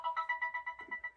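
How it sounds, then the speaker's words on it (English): A phone's electronic ringtone trills in quick, even pulses, fairly faint and alone, with a brief soft rustle partway through. "Is your phone ringing again?"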